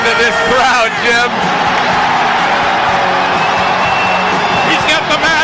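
A loud stadium crowd roars and cheers for Browns running back Nick Chubb at a Jets vs Browns NFL game in 2023, a sustained dense wall of noise with excited voices and a radio announcer talking over it.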